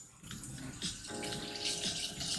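Tap water running into a pot for rice, a steady gushing pour that grows fuller as the stream strikes the water, close by and with no talk over it.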